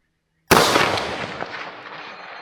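A 300 Blackout rifle fires a single loud, close shot outdoors on a range, the sharp report followed by a long decaying rumble and echo across open terrain toward a 300-meter target.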